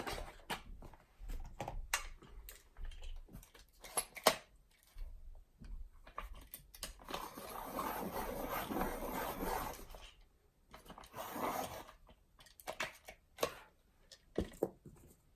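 Coloured pencil being sharpened, a close, quiet dry scraping and rasping in short bursts with a longer grinding stretch in the middle, broken by small ticks and handling noises.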